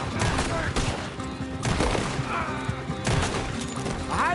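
Gunfire in Red Dead Redemption: rapid bursts of shots crack repeatedly in a busy firefight, mixed with crashes and shouted voices over game music.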